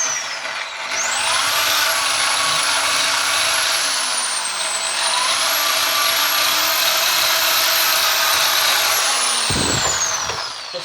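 A power drill in hammer mode boring a hole through ceramic kitchen tile, a loud steady high whine with grinding buzz, rising and dipping slightly in pitch, running nearly continuously before a brief knock near the end.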